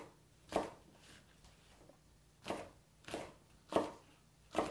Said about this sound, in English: With your knife, you're just going to run through and make slices of the nopales.